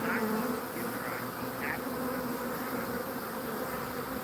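A swarm of honeybees buzzes continuously close by, a dense steady hum of many wings with individual bees flitting past the mic.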